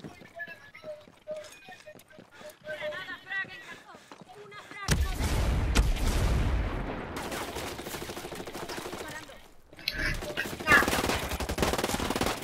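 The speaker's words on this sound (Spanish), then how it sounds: "Me está disparando." Rapid bursts of automatic rifle fire and single shots in the tactical shooter Ghost Recon Breakpoint, loud and close, punctuated by pauses, with players talking over the action.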